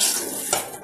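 Chicken biryani is stirred in a metal pot, a short, close scrape and clatter of a spoon against the pot with a faint wet sizzle beneath.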